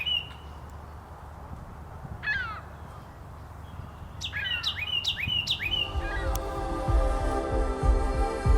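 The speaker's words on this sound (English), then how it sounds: "We can hear a Carolina wren in the background." A Carolina wren sings from a ravine park along a river corridor in southwestern Ontario, its clear repeated phrases ringing out over soft background ambience, joined near the end by a louder bird call.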